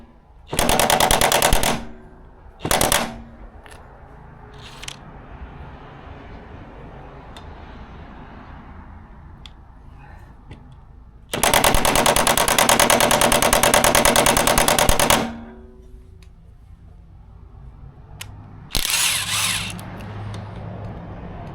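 A power wrench tightens the blades on a Toro HDX30 mower in loud, close, rattling bursts of a second to several seconds each, separated by quieter pauses.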